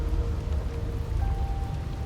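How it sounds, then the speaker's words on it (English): Steady rain falls in a dense, continuous patter, a close and even wash of drops with a low rumble underneath and no voices. "It's raining."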